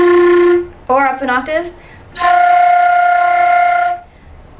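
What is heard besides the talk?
flute flutter tonguing, rolling R while blowing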